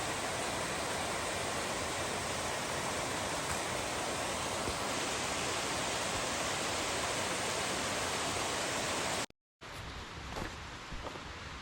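A waterfall hidden behind rhododendrons in an old-growth forest wilderness gives a steady, broad, hissing rush, constant and moderately distant, with a brief dropout near the end.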